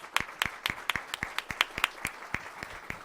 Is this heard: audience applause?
yes